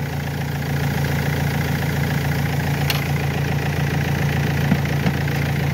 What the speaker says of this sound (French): Le moteur continue à tourner.